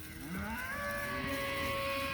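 A large steer of about 1,000 pounds moos in a long, drawn-out low call, steady and fairly close, in an open outdoor setting.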